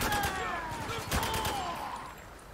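Bursts of gunfire in the shooter video game Spec Ops The Line, rapid overlapping shots with a sharp crack near the middle, loud and close, over a whistling in-game tone and game voices.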